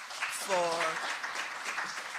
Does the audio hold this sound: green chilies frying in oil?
no